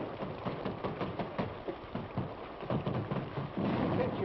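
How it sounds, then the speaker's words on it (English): Steady rain falling outside in a 1952 western film, a dense, even patter with scattered louder drops that swells slightly toward the end, with no voices over it. "Holy smokes, it's raining."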